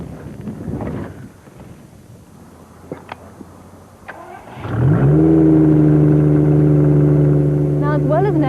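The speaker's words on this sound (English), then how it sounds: "Ignition, and off we go." A trike with an automatic gearbox starts up after a few faint clicks, its engine catching with a rising rumble and settling into a loud, steady drone as it pulls away, with some wind noise.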